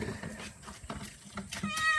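Persian house cats meow several times, close and fairly clear, with short cries spaced irregularly over faint background noise.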